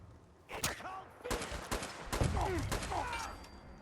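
Gunfire striking the player in the video game Fallout 4, a rapid burst of sharp shots and impacts in quick succession, close and punchy, with a voice talking over the shooting.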